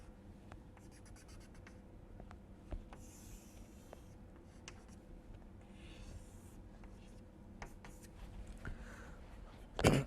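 A diagram of a planar rigid body is drawn by hand, with soft scratchy pen or chalk strokes and taps in an irregular rhythm, close and quiet.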